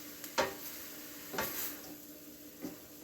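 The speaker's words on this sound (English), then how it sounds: "I'm going to just stir this whole thing" Vegetables seasoned with black pepper are stirred in a pot, giving three separate scraping, sizzling strokes spaced about a second apart over a low background hum, close and moderately quiet, with no voices.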